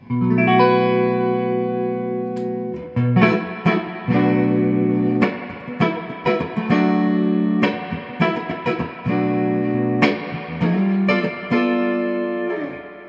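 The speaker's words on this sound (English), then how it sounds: "Let's dime the reverb and see what that's like." Electric guitar played through a Fender The Twin 2x12 all-tube amp with reverb turned all the way up, chords ringing out with long, washy decay between strums; no talking.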